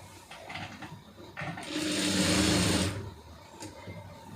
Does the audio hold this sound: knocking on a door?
no